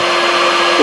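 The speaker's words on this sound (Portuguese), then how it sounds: "Aí agora usa o secador." Hair dryer in the Talking Tom Friends video game, a loud, steady electric whoosh with a constant hum that rises slightly in pitch at the very end of the short burst, with no speech over it.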